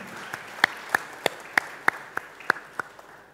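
Applause for two presenters at a virtual university forum comes through as a sparse series of evenly spaced single claps, roughly three per second, faint over a soft background hiss.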